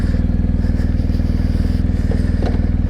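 A BMW motorcycle engine runs with a loud, fast, even pulsing beat, heard close and steady for about three seconds, with some faint rattling and scraping over it.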